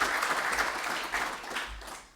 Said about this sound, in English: Please give another warm applause to our speaker.